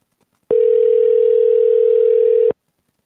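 A telephone call tone rings while the number goes unanswered: one loud, steady, unbroken tone lasting about two seconds, with silence before and after.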